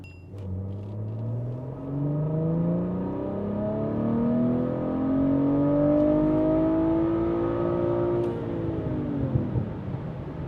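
A BMW B58 engine with a downpipe and OPF delete pulls in third gear on a dyno, its note rising smoothly through the rev range over several seconds before a sharp drop as the throttle closes.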